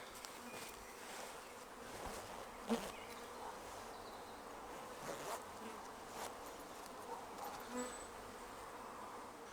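Honey bees buzzing steadily in a continuous droning hum during a swarm collection, with a few louder passes as individual bees fly close by.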